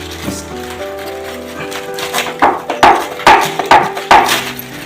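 Fresh garden pineapple is chopped on a curved vili blade, giving a handful of firm, wet crunching thuds that speed up toward the end, loud and close over a faint background hum.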